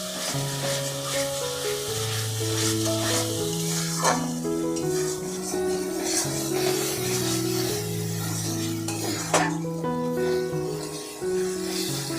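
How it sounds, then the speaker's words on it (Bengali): Spice masala with Kashmiri chili powder, salt and turmeric is stirred and sautéed in oil for restaurant-style palak paneer, a steady sizzle with occasional scraping stirs beneath loud background music. "মশলাটা আমরা সুন্দর করে কষিয়ে নিয়েছি মশলা থেকে তেল ছেড়ে দিয়েছে"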